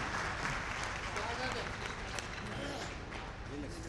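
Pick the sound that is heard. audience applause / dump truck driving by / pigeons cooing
audience applause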